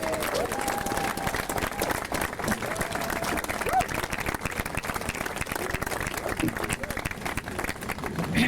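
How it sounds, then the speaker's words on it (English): Evening audience at an Israeli Air Force history event applauds an honoree, steady crowd clapping throughout with a few brief voices and a whistle-like tone cutting through. "now let's give a real nice warm applause to our honoree, to Lou Leonard."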